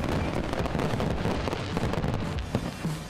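A fireworks finale bursts in a dense, continuous barrage of overlapping explosions and crackles, loud and without a pause throughout.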